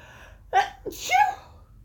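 A quick inhale followed by a loud, close sneeze, with a short breathy catch between.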